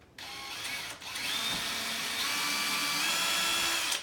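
High-pitched whir of a power drill or driver backing out screws from a ceiling light fixture, one continuous close run with a brief stall near the start.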